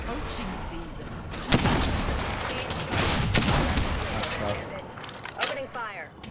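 Gunfire from the Apex Legends battle royale game, with bursts of sharp shots and impacts, a strong crack near the start and dense firing mid-way, loud and close, with character voice lines spoken over it.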